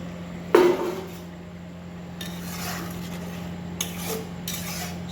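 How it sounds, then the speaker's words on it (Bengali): A metal lid is lifted off a pot of simmering ghugni with a sharp clatter and clink, followed by softer utensil scrapes against the pot over a steady low kitchen hum. "এবার ঢাকনাটা খুলে দেখা যাক কতটা হয়েছে।"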